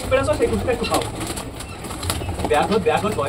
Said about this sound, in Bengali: ওই দেখো আমাদের 3টে পায়রা হাইটে চলে গেছে বন্ধুরা